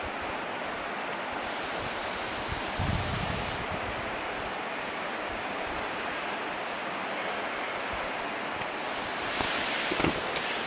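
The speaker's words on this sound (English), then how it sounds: "there's a creek down there." A creek flows somewhere below, heard outdoors in the Robbinsville, North Carolina area as a steady, even rush of running water that fills the whole stretch without pause, with no voices over it.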